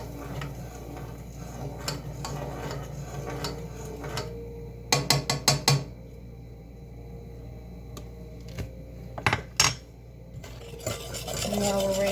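Egg mixture stirred in a pan: soft ongoing cooking noise punctuated by bursts of rapid metallic scraping and clatter from the utensil, loudest in a few short clusters.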